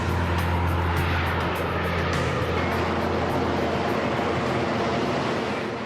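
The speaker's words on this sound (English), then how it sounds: "To help them slow down, the pilots direct the Harrier nozzles forwards." A Harrier jet with its nozzles directed forward to slow down gives a loud, continuous roar with a rushing, broadband hiss, steady throughout and heard alone.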